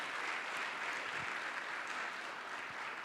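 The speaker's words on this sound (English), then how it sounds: "Let's give Brian another round of applause." An audience applauds a performer at a Christmas show, a steady, even wash of many hands clapping with no pauses, fairly soft and distant throughout.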